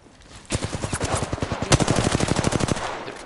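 Rapid automatic gunfire in Apex Legends on PS4, a dense burst of evenly spaced shots running for nearly three seconds after a brief quiet start, loud and close with one sharper crack partway through.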